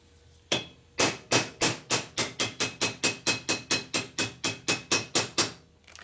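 A steel seal installer taps a valve guide seal into place on a 1961 Harley-Davidson Sportster XLCH engine, giving about twenty sharp, ringing metallic hammer blows in a fast, steady rhythm, close and clear with no talking.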